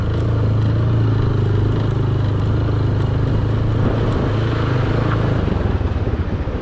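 A motorcycle ridden over a rocky off-road track in the mountainous Ramboor Valley of Kalash: a steady, loud engine drone with rattling clatter from the stony ground, continuous throughout with no talking.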